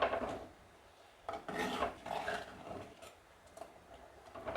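A spoon scrapes and stirs through pumpkin curry with ground coconut in a pan, in several short rasping strokes, faint and close with pauses between.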